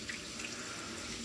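Tap water runs steadily into a sink while rice is rinsed, a brief close splashing stream.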